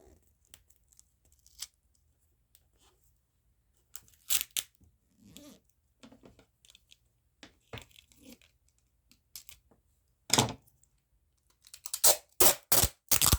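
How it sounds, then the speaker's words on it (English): Adhesive tape being pulled and pressed down during a paper craft project, heard as sparse, quiet tearing and crinkling rasps with a few sharper, louder strips near the end. "Sorry about the tape noise."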